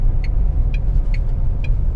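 A car in third gear cruises with a steady low engine rumble heard from inside the cabin, with a few soft, evenly spaced clicking ticks over it.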